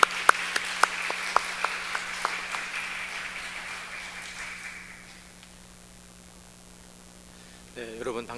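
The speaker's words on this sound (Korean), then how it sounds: "우리 따뜻한 박수로 같이 한번 환영해 주시면 좋겠습니다." A church congregation at a Sunday service applauds to welcome a visiting pastor, moderate clapping with a few sharp claps that gradually fades to quiet room hum, then a voice begins at the end.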